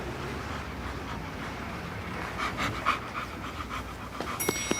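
A dog panting close by in quick, steady breaths, quiet against a low background hum and growing slightly louder toward the end.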